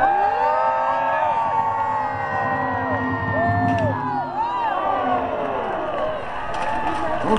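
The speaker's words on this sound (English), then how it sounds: "There's a nice cheer for these knights and their horses." A crowd cheering for jousting knights and their horses at a Renaissance Festival, a sustained loud wash of shouts and whoops over steady background noise, with voices calling out throughout.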